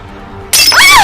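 Drinking glass shattering with a sudden sharp crash, bright tinkling fragments ringing out after a quiet room tone, close and loud.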